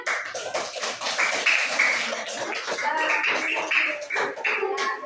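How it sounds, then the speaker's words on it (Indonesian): Pupils in a classroom clap together for a group's finished work, a close burst of uneven hand claps mixed with children's chatter and shuffling. "Lihat ya hasil kerja teman kalian. Kasih tepuk tangan."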